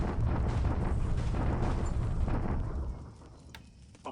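A WWII strategy video game bombardment plays as a dense, continuous rumble of heavy explosions that fades out toward the end, followed by a brief sharp sound.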